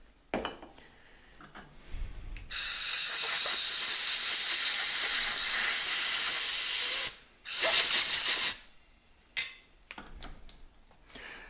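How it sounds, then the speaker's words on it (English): A long, steady hiss of carburetor cleaner sprayed into the carburetor of a Kawasaki Concours ZG1000 motorcycle, running for several seconds, followed by a shorter second spray and a few brief spurts. "you can take some carburetor cleaner"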